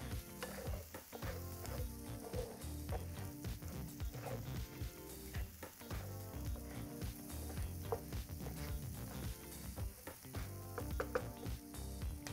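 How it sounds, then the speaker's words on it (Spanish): Rice sautés with onion in a pan for a bacon risotto, a soft continuous sizzle broken by scraping stirring strokes, close but fairly quiet, with no talk. "añadimos nuestro arroz. Y vamos a sofreírlo un poco con la cebolla."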